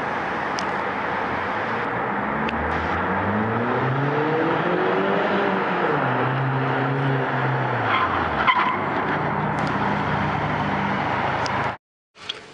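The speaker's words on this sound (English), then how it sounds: "Hard braking on any surface can cause wheel lockup and a loss of vehicle control." A car skids under hard braking with its wheels locked, a loud sustained tire squeal that slides and bends in pitch over engine roar for about eleven seconds before cutting off abruptly.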